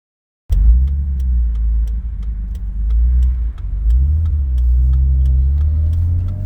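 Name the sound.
BMW E30 333i driving on a highway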